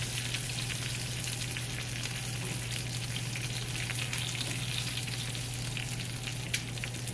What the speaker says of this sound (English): Really, it should only take about 30 seconds for the spinach to get sauteed